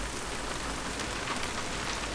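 Heavy rain drums steadily on an anchored boat, a dense, even hiss of drops close by with no pauses and no voices.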